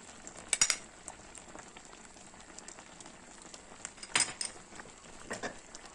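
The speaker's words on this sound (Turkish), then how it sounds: "Evet, reçel artık kaynamaya başladı." Apricot jam boiling in a pot, a faint steady bubbling hiss with a few brief sharper pops and clinks standing out, quiet and close with no voices.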